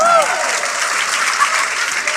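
A church congregation claps loudly and steadily at a pastor's urging, a brief dense burst of applause with faint voices underneath.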